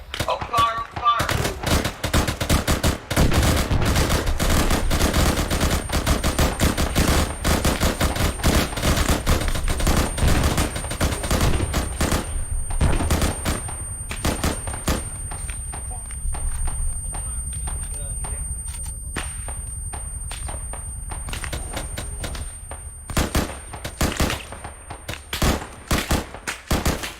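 Several guns firing at once in a firefight: loud, rapid volleys of cracking shots, densest at the start and thinning into scattered bursts later, with voices calling out between the shots.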